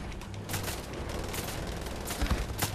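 Pistol fire in Wolfenstein: The Old Blood, several sharp shots spaced irregularly over a busy, noisy game background, some close and loud.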